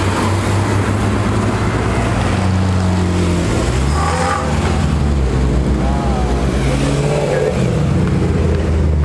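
A racing car, a McLaren, accelerating at the Nürburgring in the rain, its engine roaring steadily and rising in pitch twice as it passes, loud and continuous throughout.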